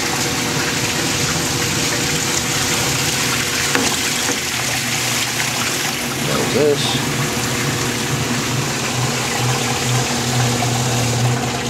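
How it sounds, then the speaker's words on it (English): A pump recirculating about 10 gallons of water inside a washing machine converted for beer brewing, with a 3,500 watt heater, gives a steady whirring hum and rushing flow throughout, with a person speaking briefly over it. "About 10 gallons of water in there now. Just recirculating."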